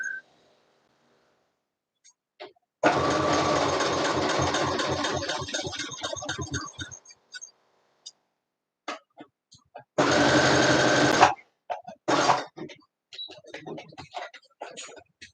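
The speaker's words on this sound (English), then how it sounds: "I'm going to keep it narrow, do that curve with the zigzag stitch close to the edge" A sewing machine runs a narrow zigzag stitch along a curved edge of cosplay fabric, a fast rattling chatter in one long run and then a shorter burst, close and clear, with a few quiet clicks and handling noises between.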